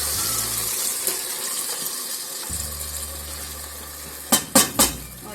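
Urad dal tipped into a pan of frying masala and stirred, with a steady soft sizzle, scraping and a few sharp clinks of utensil against the pot near the end.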